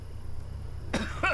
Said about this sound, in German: Wer hustet denn hier, mein Freund?